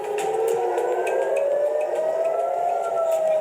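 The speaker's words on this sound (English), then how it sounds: "sirens sounded in Haifa" Air raid sirens wail over Haifa, a loud continuous rising tone with layered sirens overlapping at a distance, with no talk.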